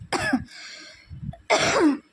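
Two bursts of throat clearing and coughing from one person, close and fairly loud, separated by a brief quieter pause.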